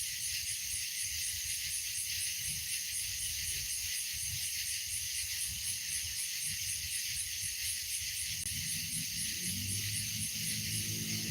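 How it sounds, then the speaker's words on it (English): A steady, high-pitched insect drone hums without pause, faint and distant, with a low rumble creeping in near the end. "Can y'all hear the cicadas in the background?"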